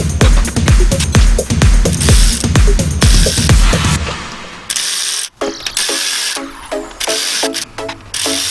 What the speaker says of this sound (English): but the rest you can get a ratchet and socket on